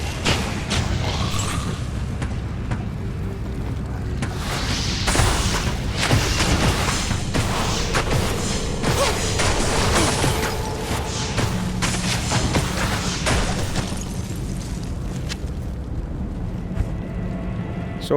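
Repeated booming explosions from the video game Diablo 2 Resurrected roll through a busy battle, some sharp and loud, others muffled under a continuous wash of combat noise, with a quieter stretch near the end.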